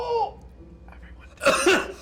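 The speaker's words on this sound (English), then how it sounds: "Persistent cough." A person gives a short cough during a live tabletop role-playing show, a quick rough burst near the end that mixes with laughter, after a quieter stretch with a brief voice at the start.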